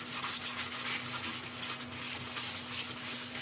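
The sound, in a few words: applying blonde shellac sealer to yellowheart wood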